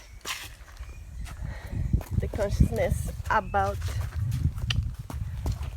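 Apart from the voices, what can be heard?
horses walking, hooves clip-clopping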